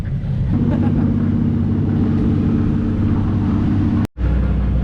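A mid-90s car with a swapped JZ engine revs hard during roll racing, a loud, steady, throaty drone close by that cuts out abruptly near the end before rumbling back in.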